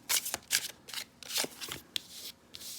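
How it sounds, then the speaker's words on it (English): Oracle cards being shuffled by hand, a few quick papery riffles and flicks in close succession, crisp and near with brief gaps between bursts. "I will shuffle the smaller deck now and like pick a card"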